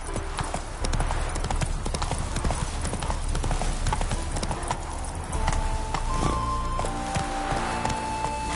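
A horse gallops in The Witcher 3 video game, with rapid rhythmic hoof clip-clops running steadily and close throughout, plus game ambience and a faint tonal layer late on.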